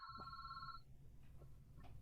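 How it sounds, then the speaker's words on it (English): A mobile phone rings during a Zoom interview, a short electronic tone over a steady low background hum, fading after under a second with faint later blips. "That's my phone, but I'm going to let it ring."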